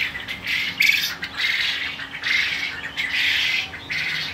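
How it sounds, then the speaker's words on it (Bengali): Japanese quail kept on litter for egg production give repeated harsh squawking calls in short bursts, close and fairly loud, with no talking. "আমাদের জাপানি জাতের কোয়েল পাখিগুলো দেখুন"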